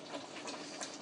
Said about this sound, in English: I'm gonna pour my stock into it.